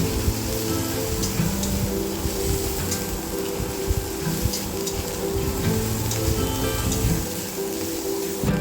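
Ginger garlic paste sizzles in hot oil with fried onions, a dense continuous crackling hiss close by, steady throughout with small bursts of spatter.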